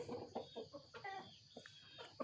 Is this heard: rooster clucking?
yes